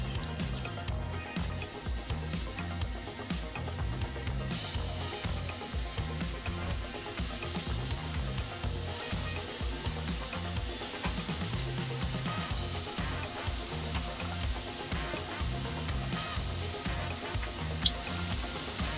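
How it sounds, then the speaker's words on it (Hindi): Chicken aloo rolls fry in hot oil in a kadhai over a mid-high flame, a dense, continuous bubbling sizzle that holds steady for nearly twenty seconds, close-up, with a small clink near the end and no talking. "रोल्स को हमें मिड हाई फ्लेम पर ही अच्छी तरीके से गोल्डन कलर आने तक के पलटते हुए फ्राई कर लेना है।"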